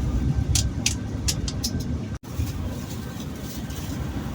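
Steady low engine and road rumble from inside a Sinar Jaya Jetbus 5 executive coach pulling out of a crowded bus terminal, with brief hissing bursts early on and a momentary cut midway.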